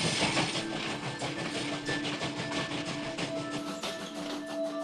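A train rolls along with a steady rumble and rhythmic clicking of wheels over the rails, heard from inside at a moderate, even level.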